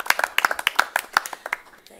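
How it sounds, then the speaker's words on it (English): Sparse, uneven hand clapping from a small group at a school board of education meeting, about a dozen sharp claps that thin out and fade toward the end. "Can we clap?"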